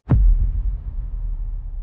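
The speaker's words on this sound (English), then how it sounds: "Next I added some low booms on the downbeats every 8 bars." A single low boom sound effect hits on a downbeat, a deep thud with a short attack that leaves a rumbling, throbbing tail, heard alone.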